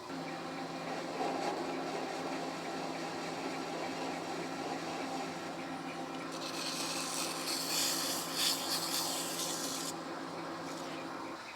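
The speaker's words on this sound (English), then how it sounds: "I'm gonna put a heavier chamfer on the front and then we're done with this end." A lathe cuts a heavier chamfer on the front end of a new steel cross feed screw for a Lion lathe, producing a low, even rubbing and scraping drone with a brighter, hissier stretch of cutting in the middle.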